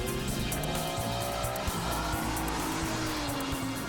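An Aston Martin DBS drives on the Auto Club Speedway track near Los Angeles, its engine droning loudly and steadily with a rising and falling pitch and faint tire noise, continuous and close.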